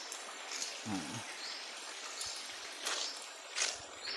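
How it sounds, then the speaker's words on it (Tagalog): A small spring of clean flowing water trickles and gurgles softly and steadily, with faint bird chirps and brief sounds nearby. "Ito yung maliit lang na bukal yan"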